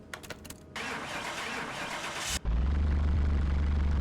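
A video game car engine cranks and catches, then settles into a deep, steady idle rumble, close and loud.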